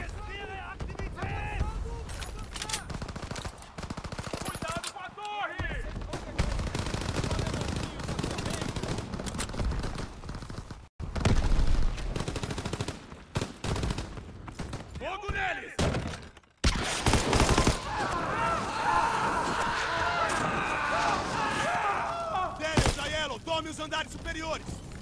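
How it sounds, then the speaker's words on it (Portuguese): Machine guns rattle in Call of Duty WWII during an assault on a tower, rapid bursts and scattered gunshots filling the scene with dense battle noise while voices shout over the fighting. "Temos que silenciar as metralhadoras!"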